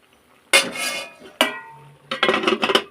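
A spoon stirs vegetables for labra curry in a cooking pot, scraping and clinking, before a lid is set down with a sharp metallic clatter, followed by more stirring scrapes close by.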